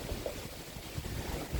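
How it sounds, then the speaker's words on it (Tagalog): Strong outdoor wind buffets the microphone in a steady, loud roar of rumbling noise with no voices. "Ang lakas ng hangin talaga"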